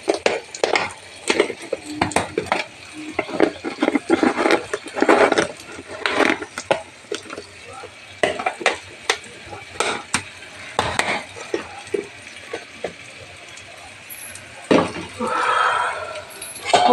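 Pointed gourd and shrimp curry being stirred in a pan, with repeated scraping and clinking of a spoon against metal and a light sizzle underneath, under intermittent talk.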